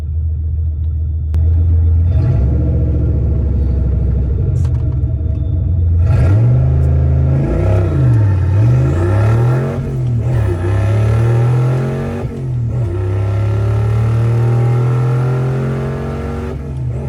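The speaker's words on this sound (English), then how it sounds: "Nice burnout, nice burnout." A turbocharged Foxbody car does a burnout at a drag strip, its engine roaring loud and close with rising and falling revs and a steady low rumble throughout.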